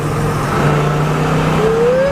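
A 1979 Pontiac Trans Am Pace Car with a smog-era engine runs loud and close, a steady rumble whose pitch climbs as it revs toward the end.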